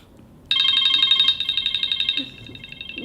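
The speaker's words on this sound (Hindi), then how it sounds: "गुड्डू का फोन आया मेरे पास" A telephone rings loudly and close, its bright electronic trill starting abruptly after a short quiet and then fading slightly.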